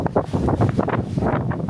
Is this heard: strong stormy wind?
yes